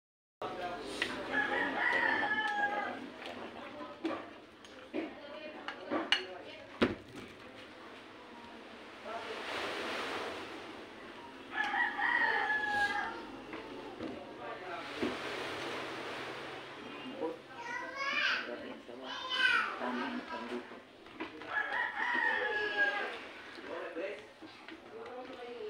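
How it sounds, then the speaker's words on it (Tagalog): A rooster crows several times at a distance, faint drawn-out calls repeating every few seconds over steady background noise and murmuring voices. "May manok ka pa baga doon?"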